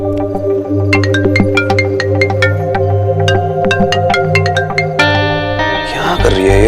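Unanswered phone call: a repeating electronic ringtone melody of bright, regular tones over a low steady hum, continuing without pause before a brief shift into a different jangling texture at the end.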